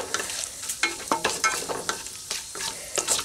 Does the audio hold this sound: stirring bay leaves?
yes